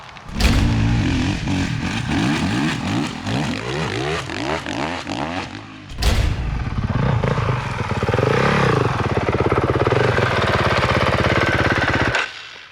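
A Honda CRF 450 dirt bike rides hard through a section of whoops, its engine loud and close, rising and falling in rapid bursts of revving as the bike hammers over the bumps, with a brief shift or throttle cut midway.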